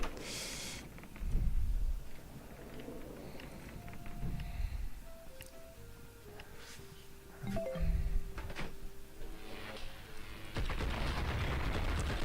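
Explosive-ammo gunfire in the video game Blood and Bacon, heard as scattered booming shots and blasts at moderate level, separated by gaps, with faint game tones between them.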